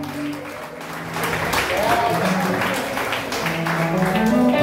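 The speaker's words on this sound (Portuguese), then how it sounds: "você pode aplaudir ao Senhor" An evangelical congregation applauds the Lord at the close of an afternoon consecration service, sustained clapping mixed with voices and tonal sounds that rise gradually in loudness.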